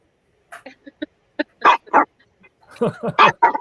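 A pet dog barks and yips in several short, sharp bursts, sparse at first and then a denser cluster of louder barks near the end, close by and indoors with no talk over them.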